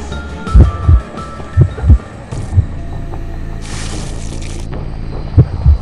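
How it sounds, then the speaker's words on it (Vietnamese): Loud heartbeat warning from the Identity V video game, a deep thumping pulse in close pairs over a low hum, with brief bursts of other game noise between the beats. "tiếng tim đập rất to"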